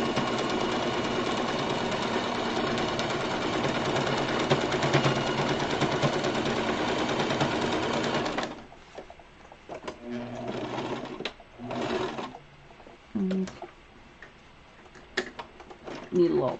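Sewing machine stitching a fabric face mask, a fast rattling run of stitches for about eight seconds, then short stop-start bursts as it goes forwards and backwards, with quiet handling noise between.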